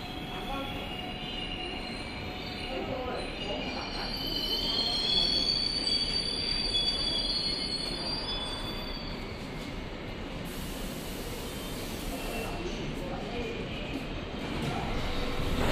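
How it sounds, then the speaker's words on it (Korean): A Suin-Bundang Line subway train rolls into Taepyeong Station with a long rumbling roar and high metallic squeal of wheels, brakes hissing, with a voice heard faintly. "수인분당선 열차가 들어왔습니다."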